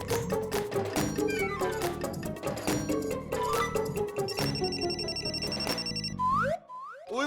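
Cartoon phone ringing in a Punjabi kids' animation, a repeated electronic ringtone melody over background music, ending with a couple of rising chirpy sound effects.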